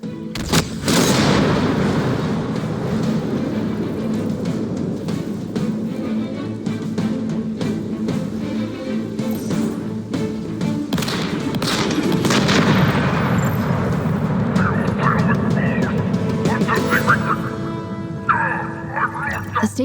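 Explosions as silos are blown up in the video game Halo Infinite: dense, continuous booms and blasts with rumbling low end that runs throughout, layered with a game soundtrack and effects.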